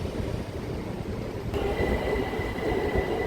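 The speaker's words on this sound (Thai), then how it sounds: "อยู่บนสถานีรถไฟฟ้า BTS นะครับ สถานีมอชิดนะครับผม" A BTS Skytrain at Mo Chit station in Bangkok, with a steady rumble of the train and platform ambience that rises about halfway through, adding a sustained high whine as the train moves, with no one talking.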